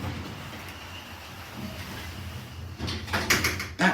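Lift doors closing in a building in Poole: a quiet hum from the lift car gives way near the end to a sliding rumble and a couple of clunks as the doors shut.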